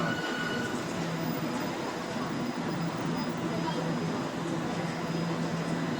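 A maglev train pulls into a station in Fenghuang, Hunan, China, a steady loud rushing hum with a faint high whine lasting throughout, heard close from the platform.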